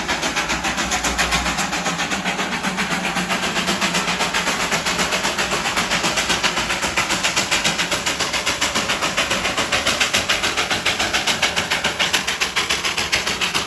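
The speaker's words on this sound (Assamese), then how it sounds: "হৈছে টয় ট্ৰেইনখন তো আহি আছে" The coal-fired Darjeeling toy train approaches with a loud, steady, rapid rhythmic chugging over a continuous mechanical hum.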